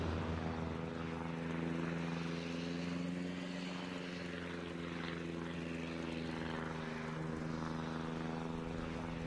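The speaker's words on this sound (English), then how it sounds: "Those aircraft just got shot down." Propeller aircraft drone steadily overhead in the naval game World of Warships, a continuous loud engine hum with layered harmonic tones holding for the whole stretch, no voices.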